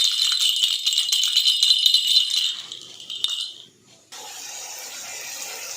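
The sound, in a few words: baby's rattle toy being shaken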